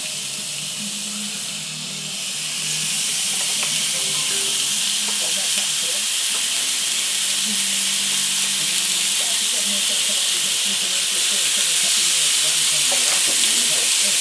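Steaks coated in a chili coffee rub sizzle steadily on a hot cooking surface, a continuous bright hiss with faint crackle that swells slightly as more meat is laid down, close and loud with no talking.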